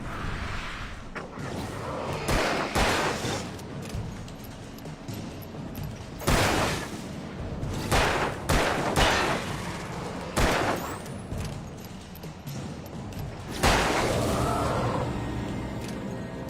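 Bursts of gunfire in a Resident Evil video game, a series of loud shots and rapid volleys spaced irregularly over a steady game background, with no talking.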